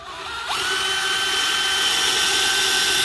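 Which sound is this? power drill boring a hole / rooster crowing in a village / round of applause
power drill boring a hole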